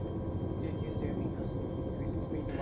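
A Chinook helicopter in the military game Arma 3 drones overhead as a steady low rotor rumble that holds evenly throughout, with no talking over it.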